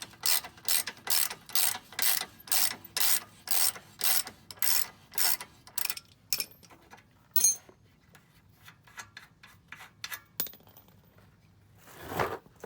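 A wrench ratchets to remove a bolt from a Fox 2.0 rear shock, with a fast run of sharp, close clicks, then scattered slower clicks and a final short burst.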